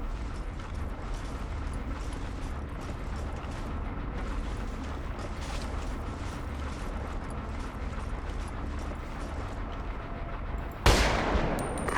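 Sustained battle noise with dense rumbling gunfire rolls on throughout in the video game Ghost Recon Advanced Warfighter 2, then a single loud, sharp gunshot cracks near the end.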